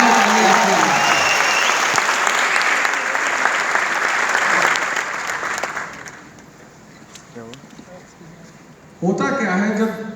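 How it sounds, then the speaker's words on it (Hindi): An audience at a company product event bursts into loud, dense clapping that carries strongly for several seconds, then thins and fades into quiet before a voice begins speaking near the end. "तो एक जोरदार ताली आपके लिए"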